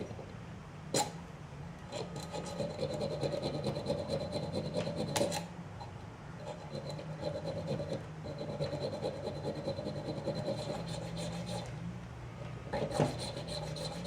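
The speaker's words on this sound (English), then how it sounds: "now comes the laborious job of slowly filing out these holes to make one large hole" Holes in a steel Bowie knife blade are worked by hand with a file, giving close, steady rasping strokes in a slow back-and-forth rhythm, broken by a few brief pauses and sharp knocks, and no one speaks.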